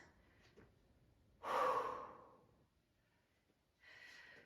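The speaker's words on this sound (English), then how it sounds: "Couple of deep breaths." Deep breaths during a lower-body workout with minimal equipment: one strong close inhale-exhale, then a quieter second breath after a pause, no talking.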